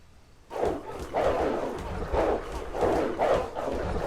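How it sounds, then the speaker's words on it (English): Wolves growling in The Bonfire 2: Uncharted Shores survival strategy game, a rough, rumbling growl recurring in steady pulses about every second, fairly close and loud with no talk over it. "I hear growling."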